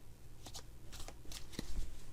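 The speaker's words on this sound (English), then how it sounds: "I've shuffled the cards like this and got all messy" Playing cards riffled and shuffled by hand during a card trick, several quick papery bursts of flicking cards with short pauses between, close and fairly quiet.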